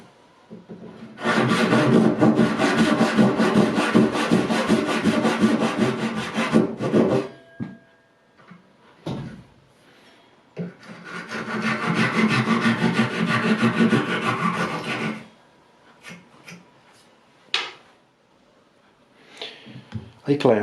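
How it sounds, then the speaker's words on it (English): Handsaw cutting by hand through a small wooden block for a tiny router table fence, with two long stretches of steady, close back-and-forth rasping strokes separated by a pause and a few light knocks. "Because these are very small, I think I will do it by hand with a handsaw."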